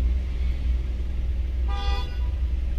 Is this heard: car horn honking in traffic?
yes